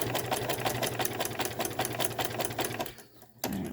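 A home sewing machine stitches a narrow zigzag on knit fabric with a fast, even mechanical chatter nearby, slows briefly, then starts again.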